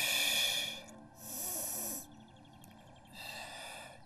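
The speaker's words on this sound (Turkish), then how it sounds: "Nefes al, ver, çok güzel." Slow, deep breaths during a pilates exercise come close and clear: three long breathy exhales or inhales separated by short quiet pauses, the middle one softer.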